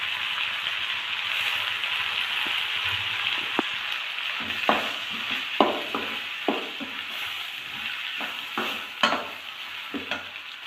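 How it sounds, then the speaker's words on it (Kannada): Chopped tomatoes fry with potatoes in hot oil for a moong dal and egg masala, giving a steady close sizzle broken by a run of sharp spoon scrapes and clicks against the pan. "ಈಗ ನಾವು ಇದರಲ್ಲಿ ಕಟ್ ಮಾಡಿ ಇಟ್ಕೊಂಡಿದ್ವಲ್ಲ ಟಮಾಟೆ ಹಣ್ಣು, ಆ ಟಮಾಟೆ ಹಣ್ಣನ್ನ ಇದರಲ್ಲಿ ಆ್ಯಡ್ ಮಾಡೋಣ. ಇದನ್ನು ಸ್ವಲ್ಪ ಫ್ರೈ ಮಾಡ್ಕೊಳ್ಳೋಣ."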